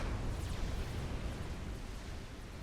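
Oblivion artillery in a real-time strategy game pounds a defensive wall, a dense continuous rumble of explosions and bursts without pause, loud and close.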